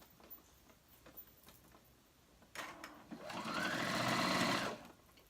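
A sewing machine stitches a pocket to the waistband of boys' fly-front pants, starting with a short whir and then running steadily for about two seconds, close and alone.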